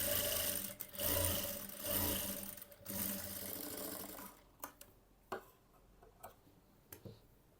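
A sewing machine stitches a blouse in a close, continuous rhythmic run for about four seconds, then stops and gives a few sparse ticks and clicks in near silence.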